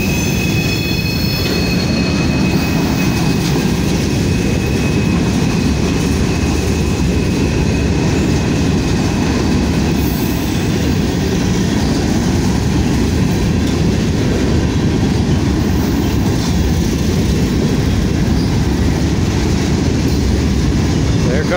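A freight train with grain hopper cars rolls past close by, a loud continuous rumble of wheels and rails with high squealing wheel tones early on.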